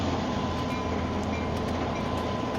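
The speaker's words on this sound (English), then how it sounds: "This is the train to Jamaica." A subway train running in a video game, steady dense rumble with rolling wheel noise continuous throughout, fairly loud and with no voices.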